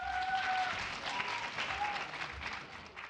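Audience applause welcoming a high school team onto the stage for a criminal mock trial competition, sustained clapping across the whole stretch with a few faint whistles cutting through.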